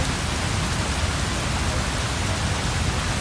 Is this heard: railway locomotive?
no